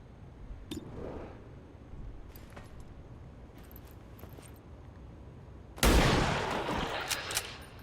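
Gunshots in XCOM Long War of the Chosen: a few sharp, distant-sounding reports early on, then a loud blast around the middle followed by a decaying rumble, set against quiet game ambience.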